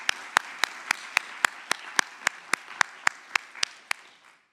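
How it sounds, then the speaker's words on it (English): Applause at the ICCP 2024 conference opening, a small audience giving a round of sparse, evenly spaced hand claps that sound near and moderately loud, then fade out. "a wonderful round of applause"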